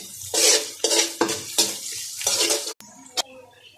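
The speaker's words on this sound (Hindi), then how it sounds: "अब लहसुन और प्याज को हम गोल्डन कर लेंगे" Chopped garlic and onion frying in a pan are stirred with a spoon in about six rhythmic scraping strokes, followed by a couple of sharp clinks against the pan.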